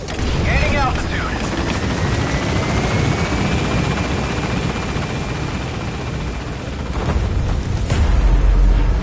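Helicopter in Metal Gear Solid V: The Phantom Pain gaining altitude, a steady loud rotor drone throughout with a rising whine, game voices speaking briefly over it.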